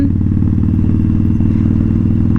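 A motorcycle rides along a slippery, squirrely road, its engine giving a steady, loud, close drone with rumbling low-end texture and no pauses.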